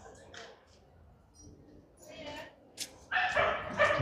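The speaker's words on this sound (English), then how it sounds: "there's yapping dogs" Dogs yap in the grounds of Antrim Castle, sounding faint and fairly distant: a few short, sharp yips and barks over quiet outdoor background, with voices nearby.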